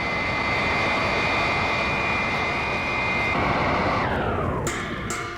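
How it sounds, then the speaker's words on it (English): Aircraft engine effect for Wonder Woman's plane in a 1977 Power Records audio drama: a loud, steady jet roar with a high whine that drops in pitch near the end as the craft slows to hover. "Robot plane slow to rendezvous with ship and hover. And Wonder Woman's plane soon makes contact with the alien craft."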